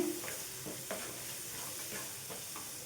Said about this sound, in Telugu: ఇవి ఒక్కసారి కలిపేసుకొని మంచిగా గోల్డెన్ కలర్ వచ్చేంత వరకు వేయించుకోవాలి.